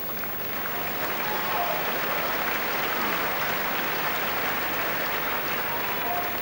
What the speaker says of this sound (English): that muffled response from the crowd sort of says it all